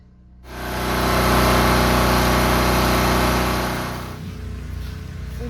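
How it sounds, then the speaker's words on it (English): A generator runs steadily to keep a flooding basement pumped during a multi-day power outage, starting abruptly after a brief quiet moment, then droning loud and constant before easing slightly lower toward the end, with no talking. "Sorry about the generator noise in the background,"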